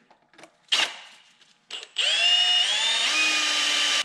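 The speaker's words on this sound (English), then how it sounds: "We'll take our drill, drill out behind here." A couple of short bursts and taps, then a power drill whirs steadily and loudly, its pitch shifting as it bites into metal while adapting a Mercedes V12 to a Subaru 6-speed.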